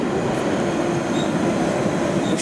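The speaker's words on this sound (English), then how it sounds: "A train arriving on platform 2 for West Ruislip" A London Underground Central Line train arriving at Woodford station platform rumbles steadily close by, a continuous broad roar with faint metallic squeals above it, no voices.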